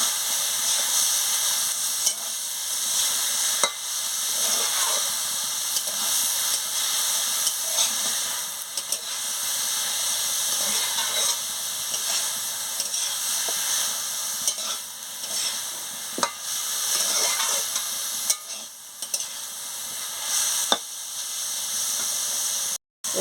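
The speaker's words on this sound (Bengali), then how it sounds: "সরষে বাটা দিয়ে ভালো করে নাড়িয়ে নিচ্ছি" A spoon stirs banana stem curry with mustard paste in a hot pan, giving a close, continuous sizzle and hiss with scraping strokes and occasional sharp clinks against the pan, and no talking.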